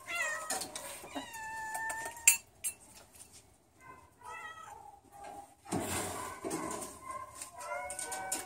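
Several cats meow repeatedly and overlapping, some drawn-out and whiny, others short, over light clattering sounds in a quiet room.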